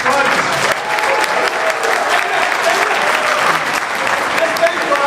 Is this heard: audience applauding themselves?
yes